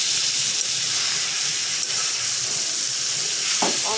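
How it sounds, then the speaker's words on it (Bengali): Food fries in a pan as bhaji in a home kitchen, a loud, steady sizzle and hiss that carries without pause for four seconds, with a faint clink near the end. "ভাজি"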